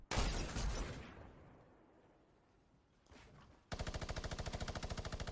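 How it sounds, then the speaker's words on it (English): Rapid minigun fire in a multiplayer shooter game, a dense loud burst at the start fading into a lull, then a sustained fast rattling stream of shots toward the end. "there's one minigun spammer"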